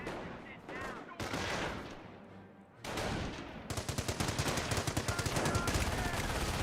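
A .30 cal machine gun fires in the Company of Heroes strategy game, with rapid bursts of rattling fire that grow denser toward the end, mixed with other battle noise.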